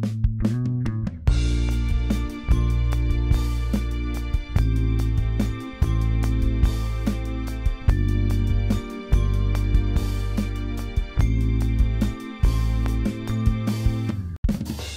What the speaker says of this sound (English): now I'm just gonna add drums to the chorus